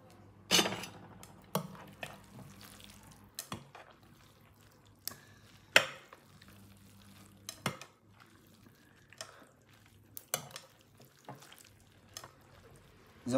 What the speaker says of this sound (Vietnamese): Bây giờ mình trộn đều mì lên.